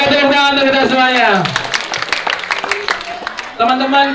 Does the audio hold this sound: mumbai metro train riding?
no